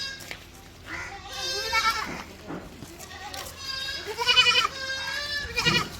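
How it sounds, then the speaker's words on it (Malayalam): A milking goat on a goat farm in Malappuram bleats several times in wavering, nasal calls, close and fairly loud, with a person talking between the bleats. "ഒരു പാലാണ് ചെറിയ പാലുണ്ട് വളർത്താൻ പറ്റിയ ആടാണ്"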